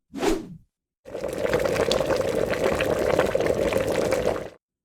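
A pot of water at a rolling boil gives a steady, dense bubbling and hissing that runs unbroken for several seconds after a short burst of sound at the start.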